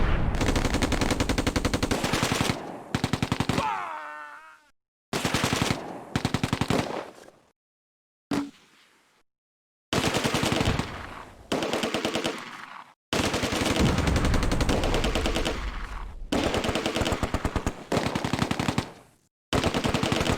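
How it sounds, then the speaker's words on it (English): Gunfire from the Close Combat: A Bridge Too Far video game: repeated bursts of rapid machine-gun fire, loud and close, broken by short silent gaps between volleys. "Unter schwerem Beschuss!"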